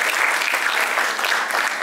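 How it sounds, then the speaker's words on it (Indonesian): A seminar audience in Denpasar, Bali applauds a presenter, a brief, dense burst of clapping that holds steady throughout with no talk on top. "Tepuk tangan untuk Kak ini."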